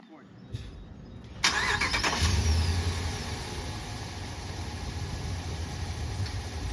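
A Ram 1500 pickup truck engine cranks and catches with a sudden burst, then settles into a low, steady idle rumble that continues to the end.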